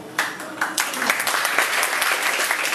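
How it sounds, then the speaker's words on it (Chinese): An audience at a city council election campaign event applauds, a dense, sustained clapping from many hands throughout, fairly loud and steady. "请真的大家热烈掌声哦"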